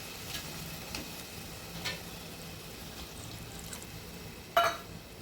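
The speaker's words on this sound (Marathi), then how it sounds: "यामध्ये आपण जो हा शिजवलेला राजमा आहे तो पाण्यासकट टाकायचा आहे" Cooked kidney beans poured with their cooking water into a hot pan for rajma, a faint continuous sizzle with a few soft stirring clinks and one sharper clatter near the end.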